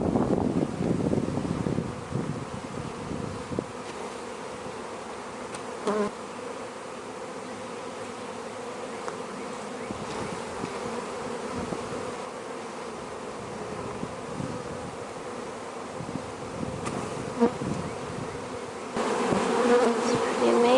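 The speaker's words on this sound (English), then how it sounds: "Foragers are airborne and all the nurse bees going down, creating a swarm right here." A swarm of honeybees hums continuously as foragers take to the air while nurse bees descend onto a cloth during a Taranov split, a steady dense drone with light wind buffeting the microphone and a louder surge near the end.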